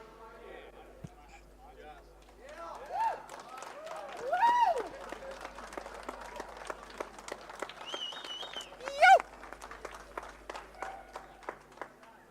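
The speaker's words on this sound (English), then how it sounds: "would you please give a round of applause to your picture partners, Sydney 300 Division A podium" Scattered applause for the Division A podium at a Sydney 300 motor racing presentation, sparse claps with cheers and whoops, voices calling out over it, and a light crowd in the background.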